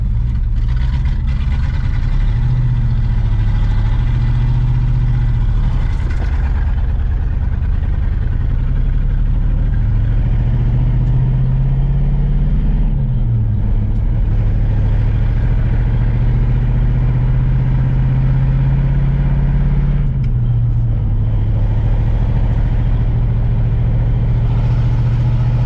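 A 1970 Pontiac Grand Prix with a four-speed runs steadily at idle, its low engine hum close and continuous, with a few slight shifts in pitch and small revs along the way.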